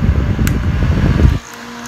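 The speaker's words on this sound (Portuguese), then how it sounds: "Eu vou vir com esse ventilador. E ele tem três velocidades" A battery-powered, rechargeable handheld fan with three speeds whirs loudly and steadily up close, then cuts off abruptly, leaving near silence.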